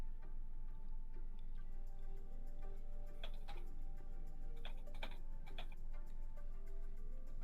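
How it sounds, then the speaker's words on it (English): Typing on a computer keyboard in a room, soft irregular clicks in short bursts over a steady low background hum. "I can hear him typing"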